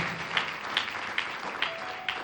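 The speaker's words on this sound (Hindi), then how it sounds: "क्या यीशु के लिए जोरदार ताली हो सकती है?" Applause from a church congregation at a Palm Sunday sermon, steady clapping from many hands with a few sharper claps standing out, heard at moderate distance.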